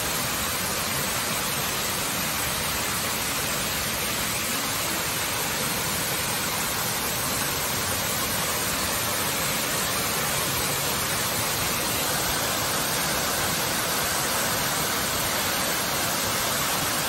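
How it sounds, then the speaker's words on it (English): A waterfall at Laurel Hill State Park in Pennsylvania's Laurel Highlands, near a reservoir, roars as a dense, steady, full rush of falling water, loud and unbroken throughout with no voices. "Just nothing like the sound of a waterfall."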